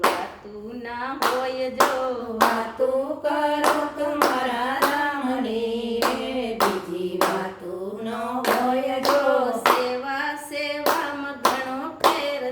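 Hands clap in a steady, regular rhythm, loud and close, keeping time with a sung Gujarati devotional bhajan to Ram; the singing voice carries through between the claps.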